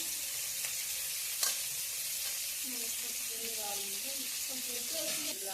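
Onions sizzle in a hot pan, a steady close frying hiss with a light clatter from stirring, while a voice talks faintly in the background.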